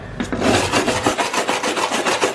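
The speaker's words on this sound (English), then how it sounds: "is just sort of smoothing them down, getting that dry paint off, and also if there's any rust attached it'll come off as well." Abrasive scraping on van bodywork metal to remove dry paint and rust, a rapid series of rough rasping strokes in a steady back-and-forth rhythm, close and fairly loud with no talking.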